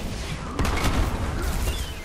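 Bombs going off in Marvel's Avengers: a rapid burst of booming blasts and crackling impacts around the middle, layered over dense, noisy battle rumble.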